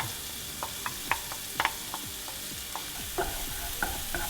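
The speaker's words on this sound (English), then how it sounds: "we're just gonna get this butter going, throw in our shallots. We're just gonna sweat these down a little bit." Shallots sweat in melted butter in a pan, giving a steady soft sizzle with scattered crackles and light scraping stirs, close and alone with no talking.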